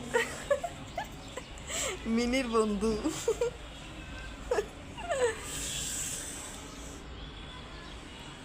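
Dogs whimper and whine near a house garden in a series of high, wavering cries, some rising and falling, with someone talking softly between them.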